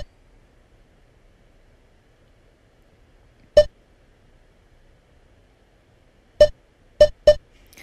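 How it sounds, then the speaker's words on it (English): Sharp electronic workout timer beeps sound in a quiet room: one alone, then after a pause three more in quick succession. "There's no rhyme or reason to these beeps. They're just going off."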